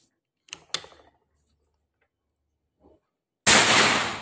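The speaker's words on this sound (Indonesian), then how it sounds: "tinggal kita tembakan yang kedua" A few quiet mechanical clicks, then a sharp, loud shot from a Predator 500cc air rifle with a lingering hiss-like decay.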